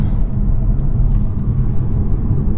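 A 2021 Toyota Supra 3.0 with a ZF 8-speed transmission cruises in normal mode from inside the cabin, a steady, subdued low engine and road rumble with no sharp peaks.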